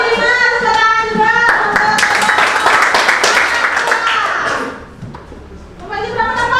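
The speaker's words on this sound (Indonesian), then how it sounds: "Tepuk tangan untuk berapa? 100. Tepuk tangan." Children in a classroom clap their hands in a brisk burst of applause after an adult's call, with speech heard before and after the clapping.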